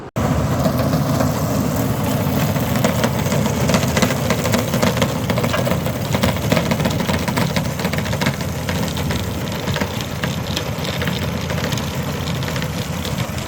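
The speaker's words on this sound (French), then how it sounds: "le Maxum est toujours fidèle au poste, hein. C'est vraiment un petit tracteur qui nous sert énormément." Small Maxum tractor engine idling steadily nearby, a loud continuous mechanical rumble with a fast knocking pulse and no breaks.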